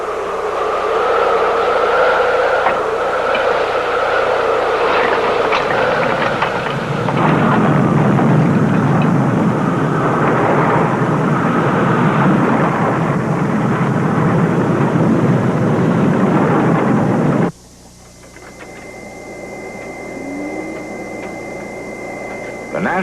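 A simulated tornado roars across a model city in a laboratory test, a loud, steady wind rush that swells to a denser roar midway, then cuts off abruptly, leaving a quieter hum.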